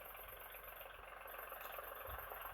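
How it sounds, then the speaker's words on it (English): A tractor engine running in the background while pumping water from a well, a faint, steady idling drone with a low rumble and no pauses throughout. "There's a tractor running in the background. You can probably hear. It's pumping water out of a well."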